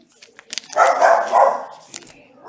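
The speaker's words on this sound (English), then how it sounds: "We got dogs barking." A dog barks a couple of quick times, then lets out a longer, louder bark and whine, close by and brief, with faint background voices.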